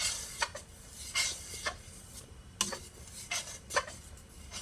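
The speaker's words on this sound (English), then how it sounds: "when I stir it, then that boiling in the center kind of goes away" Spoon stirring boiling strawberry jam sweetened with honey in a pot, a series of about eight scraping, scuffing strokes at an irregular rhythm, close and fairly quiet, with no talking.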